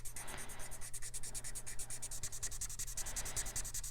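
Rapid rhythmic scratching of a Prisma colored pencil shading on paper, rubbing back and forth, steady and close, with no voices.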